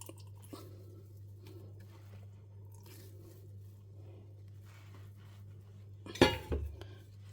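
Soaked bread slices being squeezed by hand to press out water while making modak, a brief wet squelch and crunch near the end of an otherwise quiet kitchen stretch with a low steady hum beneath.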